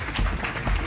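Audience applause closes a talk at the WordCamp Asia 2023 conference, a brief burst of clapping from a crowd, dense and fairly close, lasting under a second.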